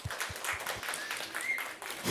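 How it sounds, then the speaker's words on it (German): Audience applause after a children's lecture on how the world pays: a brief round of scattered clapping from a hall audience, moderately faint, with a few distinct claps at the start and a louder burst at the end. "wir können Anne mit einem großen Applaus noch Danke sagen für diesen spannenden Vortrag"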